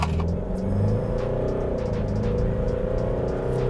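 A Nissan Frontier bi-turbo diesel Euro 6 pickup in sport mode accelerates at full throttle. A continuous, loud low engine drone rises steadily as the revs climb, heard from inside the cab.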